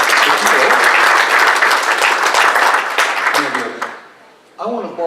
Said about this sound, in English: People, give Amanda a big applause for coming up here, helping out.